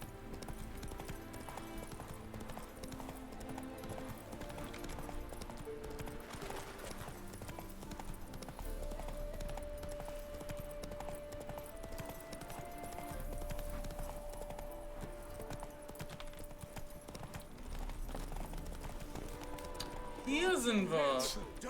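Roach the horse's hooves clip-clopping in a steady rhythm in The Witcher 3, running under game music, with a brief whinny near the end.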